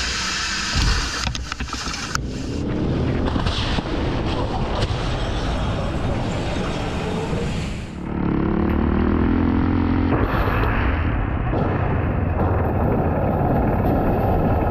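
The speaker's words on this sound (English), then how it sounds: "this intense chase through Italy with the Carabinieri police and lots of explosions" A Fast 10 chase through Italy with Carabinieri police and explosions: loud, dense roaring engines, crashes and booming impacts fill the whole stretch, with a sudden shift midway into another roaring passage.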